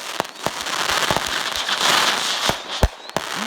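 Kickboard fireworks fused and set off in a New Year's show, giving a dense crackling roar with sharp, loud bangs popping through it, several distinct reports near the start and end.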